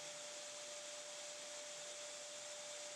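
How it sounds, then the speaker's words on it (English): Belt grinder running a 2-inch contact wheel below the flat platen, shaping cherry burl hybrid knife handle scales: a steady, even broadband whir with a constant high tone, holding level for the whole stretch without pauses. "I'll actually use that 2-inch contact wheel at the bottom of the flat platen"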